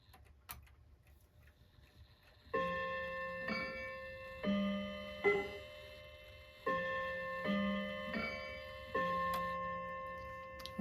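Seth Thomas mantel clock chiming its quarter-hour melody, with hammers muffling the chime rods so each struck note is cut short; about eight evenly spaced tones play after a quiet ticking lead-in.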